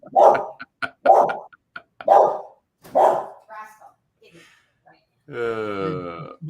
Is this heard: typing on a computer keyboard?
no